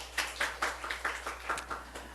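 A church congregation claps in praise during a Korean morning worship service, a run of about ten evenly spaced, moderately loud claps in a steady rhythm with no talking.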